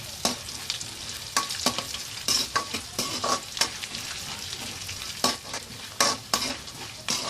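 Crushed garlic frying in a pan for a beaten rice (avalakki) tempering, with a busy sizzle cut by frequent sharp scrapes and taps of a spatula stirring at an uneven pace, close up, no talking.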